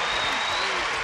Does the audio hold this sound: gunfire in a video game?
no